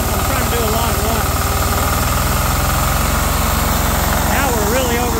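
A 10HP diesel engine on an open-source 5kW generator runs steadily and fast with a constant throbbing drone and heavy rumble, close and loud throughout.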